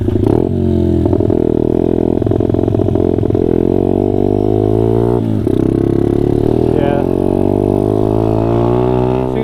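Honda CRF dirt bike engine revving hard and continuously at close range, the tone wavering and sputtering as it breaks up, with a brief dip midway before climbing again.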